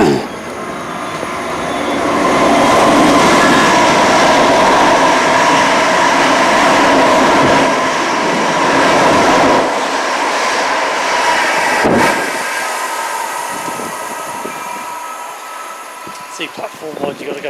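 A Class 315 electric train pulls out of Romford station, its motor drone swelling loud and steady before fading as it moves away, with a sharp clunk partway through and the rumble thinning toward the end.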